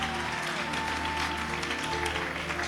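A church congregation at a prayer meeting bursts into applause and acclamation, a close and steady patter of clapping heard over sustained tonal sounds in the background.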